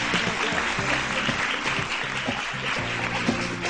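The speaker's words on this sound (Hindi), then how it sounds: "तालियां रुकनी नहीं चाहिए।" A studio audience on a Pakistani morning show applauds an arriving guest, sustained, busy clapping layered over a background music bed.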